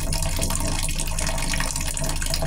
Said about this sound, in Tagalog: napatulo nila na yung tubig. O, kaya lang po, ganyan lang po kahina.